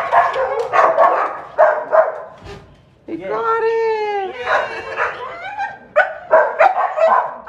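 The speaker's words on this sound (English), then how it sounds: "This is my crazy dog." A lively pet dog makes a run of excited yips and whimpering barks close by, mixed in with people talking over it.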